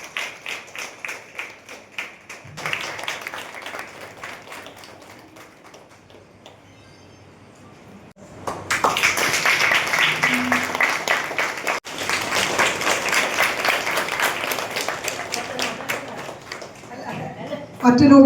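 Applause for a departing anganwadi teacher at a farewell gathering of parents and locals swells after a quieter stretch and carries on steadily, a dense crowd of clapping hands mixed with voices.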